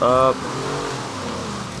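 A 2011 Ford Crown Victoria Police Interceptor engine in the racing game Forza Horizon 3 drones steadily and loudly, with a brief tonal burst at the start.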